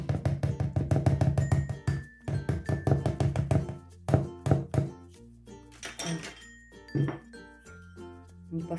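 A whisk stirs thick kulich batter in a bowl, making rapid rhythmic clinks and thunks against the bowl that break into irregular, louder knocks, heard close.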